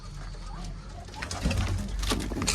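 Domestic pigeons being released to fly, with soft cooing and rustling wing flutters at close range over a steady low outdoor rumble, growing slightly busier toward the end.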